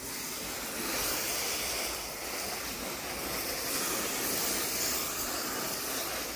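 Water spray hissing steadily while soap is rinsed off a car before a front bumper swap, a broad continuous rush that swells slightly and stays close, with no voices.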